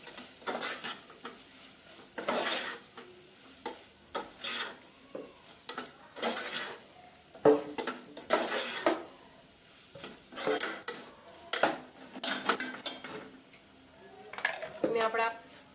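A chilli mixture with added red chilli powder is stirred in a pan with a spoon, giving repeated scraping, clinking strokes over a soft sizzle, close and fairly loud, with no talking.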